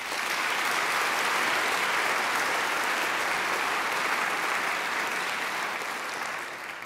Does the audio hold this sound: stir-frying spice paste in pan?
no